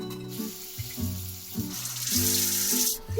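Shower water runs steadily while a dog is being washed, a continuous hiss that swells toward the end, with music playing underneath.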